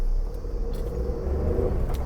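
A Tata Nexon CNG pulls away in first gear, its engine giving a steady low rumble close by, with mild road and traffic noise around and no talk.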